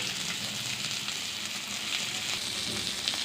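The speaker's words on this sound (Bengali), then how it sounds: "মাছগুলোর এক পিঠ মোটামুটি হালকা ভাজা হয়ে গেছে এবার আরেক পিঠ উল্টে দেবো" Hilsa fish pieces fry in a pan with a steady, even sizzle that hisses close by for the whole stretch, with no talking over it.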